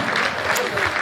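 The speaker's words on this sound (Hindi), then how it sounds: "एक बार जरा आप तालियां बजाकर मुझे बताएं" Audience applause at a Hindi poetry recital (kavi sammelan), a steady dense wash of clapping from a crowd lasting about a second, fairly loud with a faint voice mixed in.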